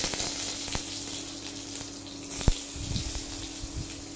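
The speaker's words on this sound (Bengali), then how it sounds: "সব কিছু ভেজে নিতে হবে।" Dried chillies and garlic fry in a pan with a continuous close sizzle, broken by a few sharp clanks and scrapes near the middle.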